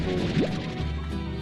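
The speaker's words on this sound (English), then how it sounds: "If you give the Gordos their favourite food, then they" A Gordo slime in the Slime Rancher video game bursts after being fed, a short, loud splattering crash with a quick rising squelch, heard close over dense game background noise.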